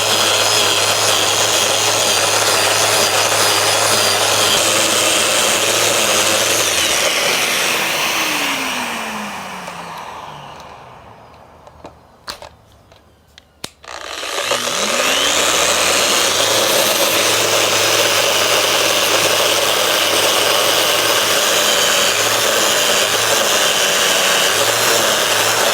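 A coarse power tool grinds and carves the corner of a live edge wood slab with a loud, steady whine that winds down, leaving a few seconds of light knocks before it spins back up and runs on.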